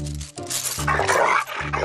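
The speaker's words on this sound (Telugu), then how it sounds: "ఇది కరిచే కుక్క అస్సలు అరవదు" A dog close by gives a few short, low, throaty sounds in separate bursts with brief gaps between them.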